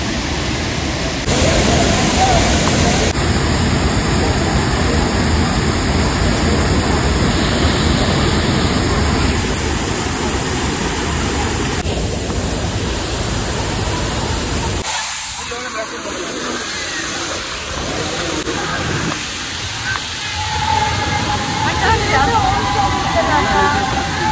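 Soormane Falls, a hidden waterfall near Kalasa in Chikmagalur, roars as a loud, continuous rushing wash of water, with abrupt cuts between takes and people talking at times.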